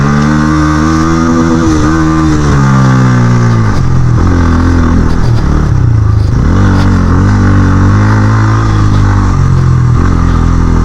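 A motorcycle engine pulls away in first gear on the hilly Marayontong road, loud and close throughout, with a steady drone whose pitch rises and falls as the throttle changes and a rough mechanical clatter underneath.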